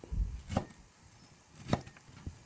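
Knife chopping Thai herbs such as shallots, lemongrass and coriander on a board in a kitchen, a few sharp separate thwacks spaced about a second apart, close and fairly loud with no talk.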